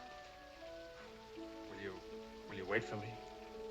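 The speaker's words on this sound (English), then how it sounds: "But in this rain." Rain falls as a steady, soft hiss in a 1954 film scene, lying quietly under a voice speaking throughout.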